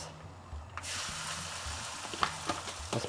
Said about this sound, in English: That's perfect, nice sizzle there.